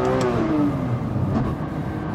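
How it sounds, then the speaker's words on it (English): A 1400 hp Nissan GT-R with a failing rear differential gives a loud, close engine whir and rev with a falling whine layered over a rough, grinding drone throughout. "just heard a nasty sound, and I'm guessing it's the rear diff"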